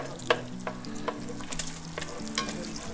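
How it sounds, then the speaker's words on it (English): Butter melts in a pot with rendered bacon on a Weber grill, a continuous close sizzle overlaid by repeated scraping and knocking strokes of a utensil stirring through the fat. "Let's melt that butter,"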